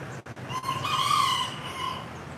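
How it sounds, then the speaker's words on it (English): Indoor chickens with a rooster crowing close by, one drawn-out cock-a-doodle-doo rising over a low background murmur and a few soft clucks, on a town street in Surin, Thailand. "If you can't have a farm, you have your chickens in the house."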